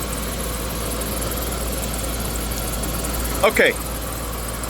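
A Land Rover Discovery 2 idles steadily with its belts and fan adding a constant whirring hum, close and continuous, while a voice speaks briefly near the end.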